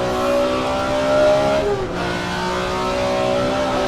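Sports car engine in a racing video game on a desert circuit at Willow Springs, revving steadily with a smooth, continuous drone and a brief dip as it shifts up into fifth gear, then pulling on.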